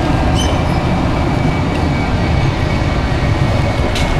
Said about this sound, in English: I'm gonna get on the train here, head out towards the zoo.